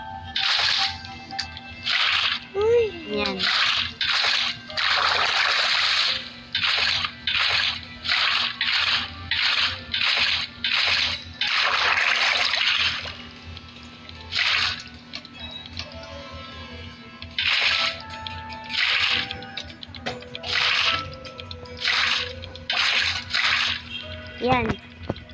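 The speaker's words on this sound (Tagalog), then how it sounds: "So, maglalagay tayo ng tubig." Water placed and flowing in Minecraft, part of a water elevator built over magma and soul sand, comes as repeated splashy, rushing bursts in quick succession. Someone talks over and between them.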